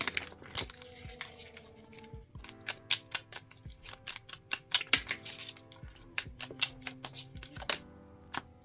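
A deck of oracle cards is shuffled by hand at close range, bursts of sharp, rapid riffling snaps and flicks in irregular clusters with quiet pauses between, no speech.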